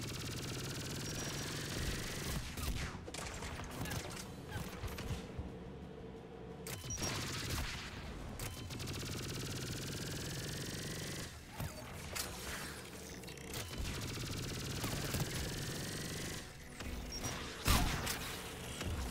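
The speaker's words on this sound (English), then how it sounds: "Guns ahead of us." Repeated gunfire and AA gun bursts in Mass Effect 3 crackle in clustered volleys across a noisy combat scene, mostly without speech.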